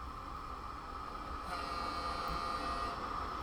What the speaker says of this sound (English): Oh, he does blow the horn.